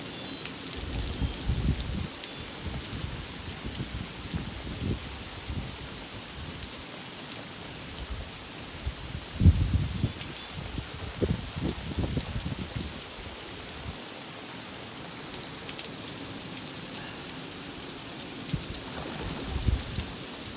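Cold rain falls steadily at a carp fishing spot, a soft constant patter on surfaces with occasional louder drops and a few close bumps, fairly quiet and without talk.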